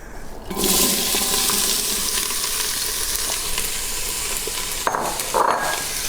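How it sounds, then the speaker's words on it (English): Celery, onion and carrot sauté in olive oil in an Instant Pot with a loud, steady hiss of sizzling that bursts in abruptly and holds, and a couple of soft stirring scrapes near the end. "I'm going to give these a nice stir and let them saute up just a little bit."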